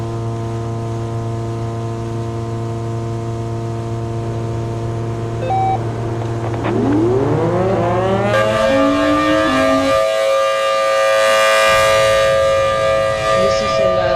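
A Chrysler air raid siren in the video game Plane Crazy holds a loud, steady multi-tone wail. Partway through, its pitch sweeps upward and it roars on louder and brighter until the end.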